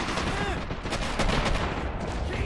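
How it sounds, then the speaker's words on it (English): Enemy artillery fire and explosions in the World War II strategy game Men of War: Assault, a dense barrage of booming blasts and crackling gunfire, loud and continuous throughout. "I think that explosion is some sort of artillery from the enemy"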